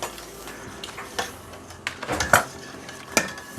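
Eggs whisked in a bowl for a quiche, a whisk clattering and tapping against the bowl in irregular bursts, close and fairly loud, no talking.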